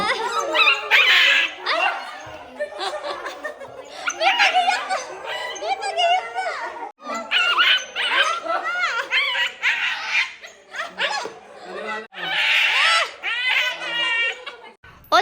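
A hungry dog yelps and whines excitedly at food in rapid, high-pitched bursts, loud and close, with short pauses between outbursts.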